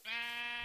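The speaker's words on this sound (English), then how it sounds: "Here, Mr. Sheep!" A single short, clear sheep bleat from a video game, close and alone.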